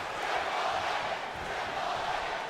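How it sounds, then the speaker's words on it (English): A video game arena crowd in WWE 2K19 roars steadily in a continuous wash of cheering noise for a wrestling match, with no distinct voices standing out. "They're cheering Triple H."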